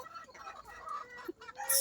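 Chickens cluck and murmur on a chicken farm in a short, busy stretch of overlapping bird calls at moderate distance, with no one speaking over them.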